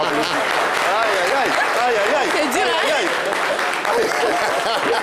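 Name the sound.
audience applause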